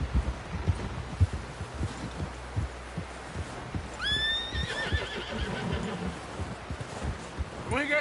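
A horse whinnies loudly midway with a rising and falling cry, over a busy Red Dead video game soundscape of thumps and hoofbeats, with voices shouting.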